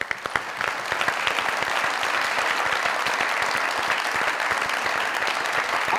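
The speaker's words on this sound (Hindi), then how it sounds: "आप लोगों की जोरदार तालियों में," A studio audience at the Mazaq Raat comedy show claps loudly and continuously to welcome film star Shaan Shahid and actress Meera. The dense applause fills the hall at a steady level with sharp individual claps standing out.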